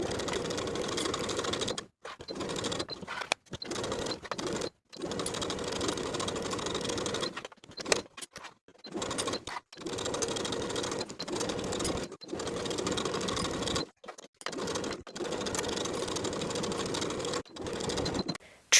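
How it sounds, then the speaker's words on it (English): A sewing machine stitches a facing to the top edges of a child's jumper in long, steady whirring runs broken by brief pauses, close and clear. "Sew the facing to the top edges of the jumper with 1/2 inch seam allowance all the way around."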